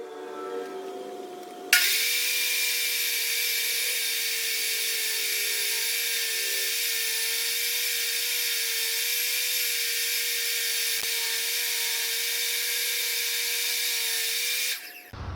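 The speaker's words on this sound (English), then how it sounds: "I'm just going to freehand it here on the table saw" A table saw spins up and runs as wood casing trim is cut freehand for a scribe piece, giving a steady, close motor whine that lasts about thirteen seconds before winding down.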